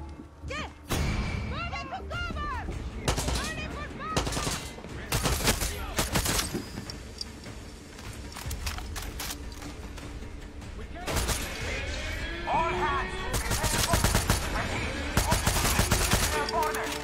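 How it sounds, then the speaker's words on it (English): Heavy turret cannon fire in a ship-boarding shooter game, rapid bursts of loud booming shots in clusters with gaps between them, a voice talking over parts of it. "Those turrets pack one hell of a punch."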